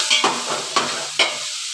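Onions sautéed with salt in a pan for biryani, stirred in four distinct scraping strokes over a steady close sizzle, with no voices.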